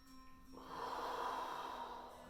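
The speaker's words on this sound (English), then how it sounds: "I'm gonna take a big breath in." A single deep breath drawn in through the nose during a yoga hip stretch, a soft airy rush that swells after a brief pause and holds steady for a couple of seconds, close and quiet with no talking.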